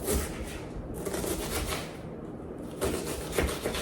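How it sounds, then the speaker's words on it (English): Onion chopped with a knife for a pot roast: a rapid run of close, rhythmic knocks on a cutting board, fairly loud, in two bursts with a short pause between, no voices. "So you're gonna cut up your onion."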